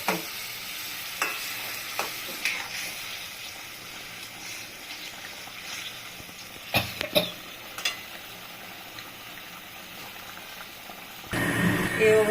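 Katla fish curry simmering with nigella and mustard, a steady low bubbling and sizzling hiss with scattered clinks and stirring knocks, hot water splashing in toward the end, close and moderately quiet.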